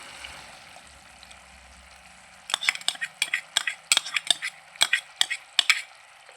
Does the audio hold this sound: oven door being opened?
no